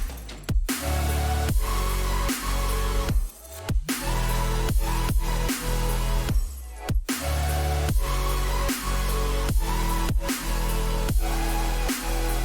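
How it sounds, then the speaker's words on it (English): Rhythmic saw synth chords over a steady pulsing beat, with automated washes of reverb swelling and sweeping between the repeated hits. "on these saw chords here, I'm automating the reverb to create these really cool sweeps"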